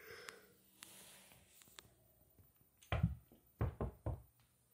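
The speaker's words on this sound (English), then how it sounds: "I hope when somebody won't knock my door." Knocking on a door: a few faint taps at first, then two loud clusters of heavy knocks, close by, with no talking.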